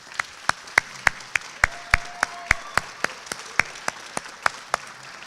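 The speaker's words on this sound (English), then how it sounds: "can you please give another round of applause for the amazing speakers that we had here tonight?" An audience claps for the evening's speakers, the sharp individual claps ringing out one by one at a slow, even pace, like a small group or a single close clapper rather than a dense crowd.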